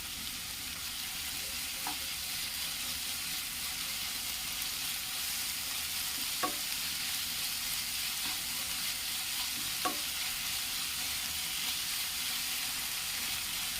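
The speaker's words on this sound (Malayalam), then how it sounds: "ഇഞ്ചിയുടെയും വെളുത്തുള്ളിയുടെയും പച്ചമണം മാറുന്നത് വരെ വഴറ്റി കൊടുത്ത ശേഷം" Crushed ginger and garlic sautéing in a pan for a beef mappas curry, a steady close sizzle running throughout with a few sharp spatula scrapes against the pan, no voices.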